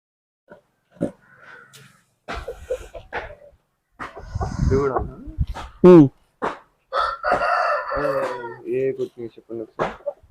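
Aseel roosters crow and chickens cluck nearby on a farm in several bursts, loud and close, with a voice talking between the calls.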